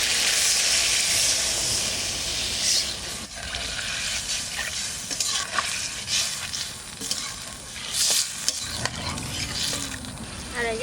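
Fish curry in a pan sizzling loudly and steadily as spiced water is poured in and stirred, with a dense hiss and occasional scraping throughout.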